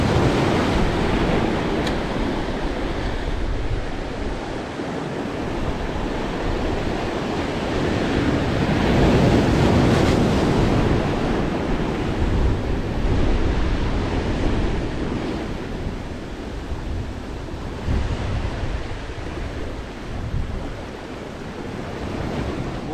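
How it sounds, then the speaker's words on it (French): Wind gusting along the seashore during sea bass fishing, a steady loud roar of surf and wind buffeting the microphone, swelling and easing without pause and no talking. "Le vent qui se lève est un peu gênant en plus."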